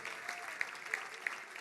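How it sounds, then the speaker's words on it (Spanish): A church congregation claps in praise, a dense, steady wash of applause with a few sharper individual claps standing out, continuous and fairly loud throughout. "Le dan palmas de alabanza al Señor."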